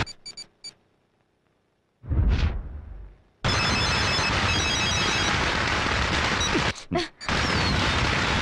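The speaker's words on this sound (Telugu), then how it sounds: "రింగ్ అవుతుంది." A telephone ringing in a film scene: a few short electronic ring bursts at the start, then a deep boom and a long, loud, dense stretch of ringing and noise with brief breaks near the end.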